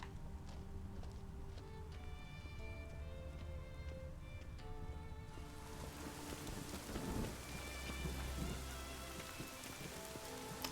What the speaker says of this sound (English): I like how the storm is super loud despite the fact I'm underground.